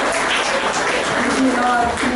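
A church congregation claps in a dense, steady wash of applause during a Sunday service, with a voice speaking over it.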